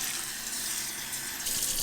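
Tap water pouring into a bowl for a microwave meal prep, a steady close gush that runs continuously and swells slightly at the end, with no talking.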